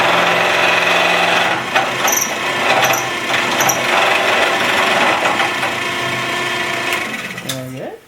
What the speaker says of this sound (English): So we're ready to hit this with the skew.